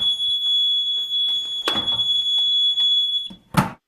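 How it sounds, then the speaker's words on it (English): An AED defibrillator sounds a loud, steady high-pitched alarm tone for over three seconds, followed by a brief sharp click or thump at the end. "Oftentimes there will be a loud alarm associated with it."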